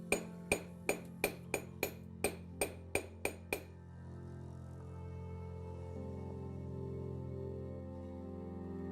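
A hammer cold-forges silver, about ten sharp metallic strikes in a quick, slightly uneven rhythm, close and clear, followed by a quiet low hum once the blows stop.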